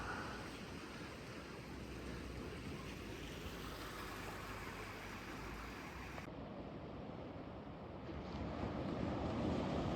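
Surf and wind at Middle Beach on Vancouver Island make a constant broadband roar that swells slightly louder toward the end, with steady wind noise on the microphone and no voices.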